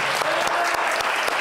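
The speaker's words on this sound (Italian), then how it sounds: "Facciamo un applauso" Students applaud a visiting school principal in a burst of dense clapping, with a few sharper individual claps standing out and a voice briefly audible over the crowd.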